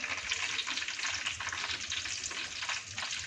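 A homemade cough and cold remedy boils in a pot on the stove, giving a steady, soft bubbling hiss that continues evenly throughout with no voices.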